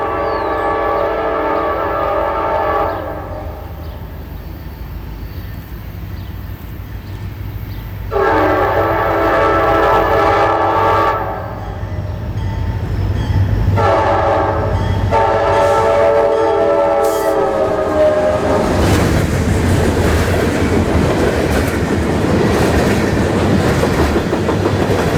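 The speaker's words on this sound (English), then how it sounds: "southbound local train C711 with an ex-Seaboard Coastline SD40-2 leading solo, with a bronze bell" An ex-Seaboard Coast Line EMD SD40-2 locomotive leads southbound local train C711, sounding several long loud horn blasts in a pattern before rumbling past with clattering railcars at close range.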